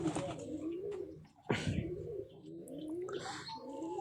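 King and Giribaj pigeons coo softly in a loft, with low rolling coos recurring throughout, a sharp chirp or wing sound around the middle, and faint chirps in the background.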